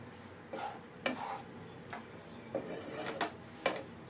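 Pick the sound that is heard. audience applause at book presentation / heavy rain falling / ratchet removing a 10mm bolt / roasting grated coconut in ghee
roasting grated coconut in ghee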